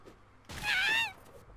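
A cat meows once in the South Park video game, a single clear, wavering mid-pitched call of about half a second standing out over quiet game background.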